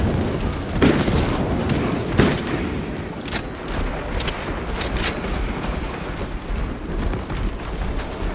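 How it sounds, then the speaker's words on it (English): A frag grenade goes off in Warhammer 40K: Space Marine 2 amid a loud, sustained rumble of battle, with a sharp blast and further thuds and gunfire layered over the continuous din. "Releasing frag grenade."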